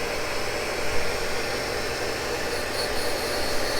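A Cincinnati tool and cutter grinder grinding a Morse taper in place, giving a continuous, even, dense hiss-like grinding roar with no pauses, close and moderately loud.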